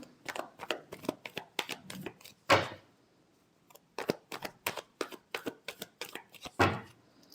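Tarot cards are shuffled by hand in a series of quick riffling bursts and soft slaps, close and crisp, with brief pauses between rounds.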